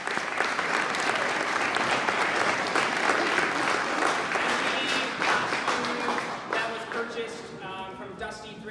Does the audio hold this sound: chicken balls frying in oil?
no